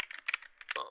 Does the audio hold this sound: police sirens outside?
no